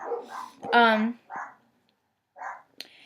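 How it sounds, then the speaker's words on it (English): A dog at home gives a short, fairly close bark with a whiny tone, mixed in with a person's hesitant speech and followed by a few brief, quieter sounds. "don't know if you hear my dog barking"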